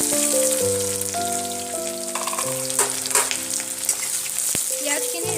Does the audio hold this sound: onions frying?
yes